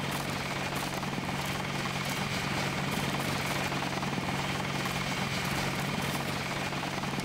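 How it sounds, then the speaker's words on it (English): A helicopter in the video game Deus Ex thrums steadily with continuous rotor and turbine noise, holding at constant loudness with no talk. "Quite the badass-looking helicopter there."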